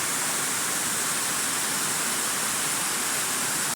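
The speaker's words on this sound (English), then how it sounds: "This is that same waterfall." Steady, dense roar of a waterfall heard from nearby on wet, slippery riverside rocks, a broadband rushing wash that stays constant throughout with no voices over it.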